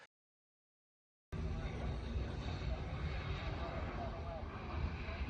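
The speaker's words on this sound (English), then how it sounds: "a small aircraft made a gear-up landing and caught fire on the runway" A small aircraft making a gear-up landing on a Florida runway and catching fire: after about a second of silence, a steady, loud broad roar of engine and rushing noise runs to the end.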